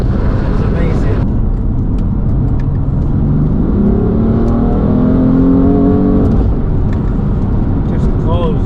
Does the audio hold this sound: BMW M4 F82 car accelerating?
yes